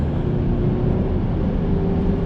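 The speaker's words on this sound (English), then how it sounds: "That's the 4-cylinder Cayman ahead of me. I can hear that nasty engine in it." A four-cylinder Porsche Cayman runs on the road ahead, heard as a steady, constant low drone of engine and road noise with no breaks or talk.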